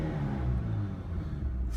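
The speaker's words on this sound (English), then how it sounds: "Go ahead and give her a start." A car engine idles steadily just after being started, a low, continuous rumble heard close with no talking.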